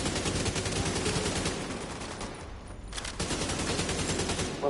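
AK-47 rifle fire in the video game The Division 2: sustained rapid automatic bursts, loud and close, with a short pause before firing resumes.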